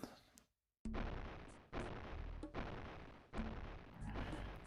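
Cannon fire in Old School RuneScape: four heavy booming shots spaced roughly a second apart, each a sharp loud blast trailing off into a rumbling decay, after a brief silence.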